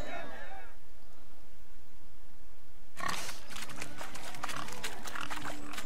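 A pig in The Witcher 3: Wild Hunt grunts and squeals in short bursts after a few seconds of background noise, with a voice talking at the start.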